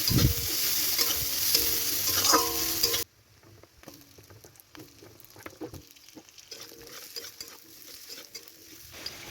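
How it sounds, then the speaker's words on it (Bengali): Sliced onions hit hot oil in a kadai over a nigella seed tempering, bursting into a loud sizzle that drops abruptly to a quieter, crackling fry with scattered utensil clicks and no voices. "এবার কড়াইতে যে তেল আছে তাতে কিছুটা কালো জিরে ফোড়ন দিয়ে এবারে দিয়ে দেবো পেঁয়াজগুলো"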